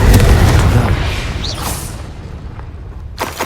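In Hogwarts Legacy, an Incendio fire spell bursts in a heavy, rumbling explosion that starts loud and decays over a few seconds, with faint game effects flickering on top.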